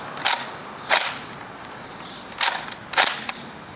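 Nerf Quick 16 dart blaster slam firing, four sharp close snaps in quick uneven succession, each a short burst of plunger and dart release, with quiet gaps between.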